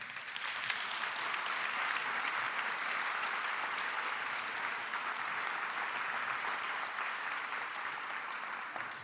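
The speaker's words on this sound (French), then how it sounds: "je vous demande d'applaudir Emmanuel Carrère." A large audience at the Le Livre sur la Place book festival in Nancy claps continuously and evenly for several seconds, a dense wash of applause that holds steady and only tapers slightly at the end.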